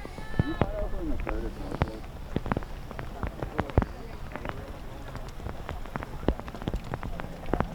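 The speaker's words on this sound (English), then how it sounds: "In the rain, mind you." Steady rain patters on a high school softball field, a constant wash of drops with sharper scattered ticks and thumps over it, continuous and close throughout.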